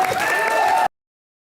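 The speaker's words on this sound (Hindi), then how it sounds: "वो तो तालियां होनी चाहिए।" Studio audience clapping on a Hindi comedy show, a dense steady burst of applause with some crowd noise, cut off abruptly after under a second.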